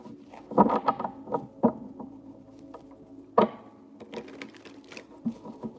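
A deck of tarot cards is shuffled up close, with quick clustered riffles and soft taps, then a pause and a sharp snap before more irregular card flicks.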